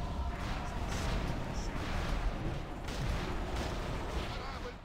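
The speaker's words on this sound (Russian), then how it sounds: "Корабль под обстрелом." Cannons fire on a ship during a video game battle, a dense continuous barrage of booms and blasts at steady loudness throughout, with voices in the mix.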